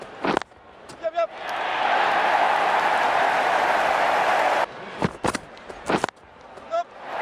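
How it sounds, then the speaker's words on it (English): Cricket crowd applause and cheering swell in Ashes Cricket 19 during a one-day international, a sustained roar lasting several seconds between brief commentary and game sounds. "That's what the crowd have come to see."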